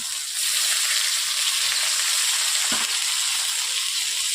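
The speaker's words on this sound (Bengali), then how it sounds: "এরপর দিয়ে দিচ্ছি টমেটো কুচো।" Chopped onion and tomato sizzle loudly and steadily in hot oil over whole cinnamon and cardamom for a Bengali prawn malai curry, with one soft stirring knock partway through and no voices.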